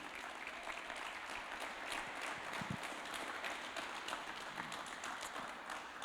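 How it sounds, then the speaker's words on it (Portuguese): A church congregation applauds together at a Sunday service, a steady wash of many hands clapping at moderate distance that holds evenly throughout with no voices standing out. "Uma salva de palmas para Jesus."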